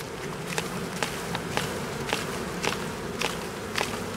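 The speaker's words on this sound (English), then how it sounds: "Honeybees that are being transported like this generally aren't as aggressive because they don't have a home to protect yet." Three pounds of honeybees flying around after release from a transport package, giving a continuous buzzing hum with regular light taps at roughly half-second intervals.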